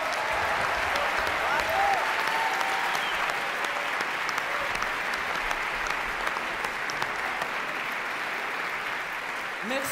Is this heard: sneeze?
no